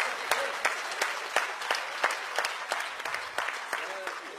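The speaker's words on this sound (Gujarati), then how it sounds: "તાળીઓ પાડો, તાળીઓ પાડો" An audience at a book launch event gives scattered, uneven clapping, separate claps ringing out at irregular intervals rather than a full ovation.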